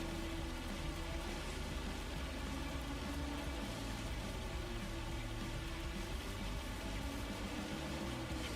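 Steady rain in the Farming Simulator 25 video game, a constant dense hiss of falling drops with no breaks and no voices, quiet overall.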